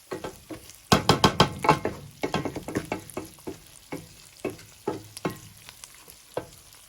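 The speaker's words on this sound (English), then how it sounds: "So this is just frying it. I'm gonna let it fry for a bit" Rice crackles and sizzles in a pan for Nigerian fried rice, with irregular bursts, plus scraping and stirring knocks, close up with no talking.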